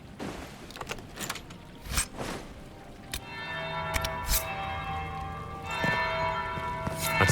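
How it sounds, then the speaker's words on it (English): Large bell tolling in the video game Dragon Age Inquisition, several heavy resonant strikes ringing out with long humming decay, mixed with a few sharp bangs and a low game ambience underneath. "That's the bell."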